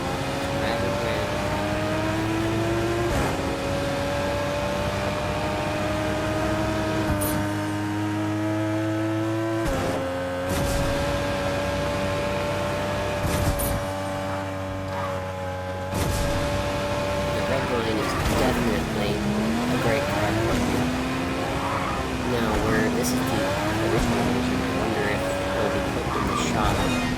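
Redline car driven in the Fortnite video game, with a continuous engine drone whose pitch rises and falls through gear changes and revs, steady and loud for the whole stretch.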